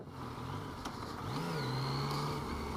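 A three-wheeled motorcycle accelerating through town, its engine note rising and then holding a strong, steady pitch close up, with road and wind noise underneath.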